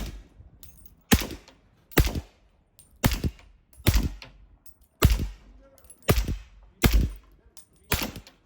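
Suppressed 300 Blackout rifle firing subsonic rounds: eight sharp, fairly loud reports spaced roughly a second apart, each a crisp crack with a short tail, with quiet gaps between them.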